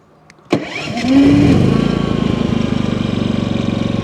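A couple of quick pulls, then a Harbor Freight Predator 5000 watt dual-fuel inverter generator catches and revs up, settling into a steady, fast-pulsing run close by.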